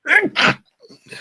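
A person sneezing close by: a loud two-part burst in quick succession, followed by a pause and a few faint, small sounds.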